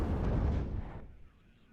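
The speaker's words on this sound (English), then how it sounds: "There is some cluster coming in and has taken out the tank that was there." Cluster bombs exploding in the WARNO strategy game, one heavy rumbling blast that fades into a low, fairly quiet tail.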